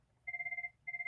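A telephone rings with two electronic bursts of rapid warbling tone separated by a short pause, clear and fairly close in an otherwise quiet room.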